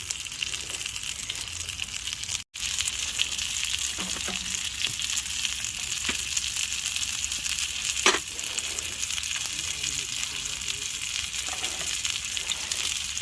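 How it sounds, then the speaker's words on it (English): Belly pork and peppers fry in a pan inside a hot tent during winter camping in the woods. The close sizzle is steady and continuous, with a few faint clicks and stirring knocks and no talking. "That belly pork frying away there"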